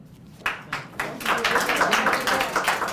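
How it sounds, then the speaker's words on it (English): Audience applause at a community advisory board meeting, a few individual claps building into steady, fairly loud clapping from a group in a meeting room. "Please, let's not applaud."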